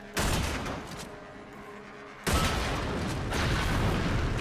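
In the sci-fi shooter Warframe, a shot object explodes with a loud burst, followed by a fading rumble and then a second loud, sustained blast of noise.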